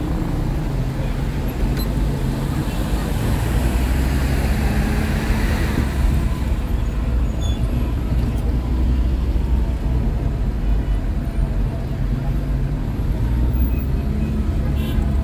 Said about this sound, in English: check out the traffic flow